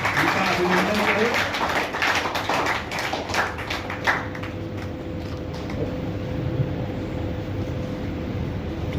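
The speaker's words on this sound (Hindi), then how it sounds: "ताली के गड़गड़ाहट से उनका अभिनंदन करें।" Applause and scattered clapping welcome a guest at a public gathering in Darbhanga, dense and close for the first few seconds before thinning into a murmuring crowd with faint voices.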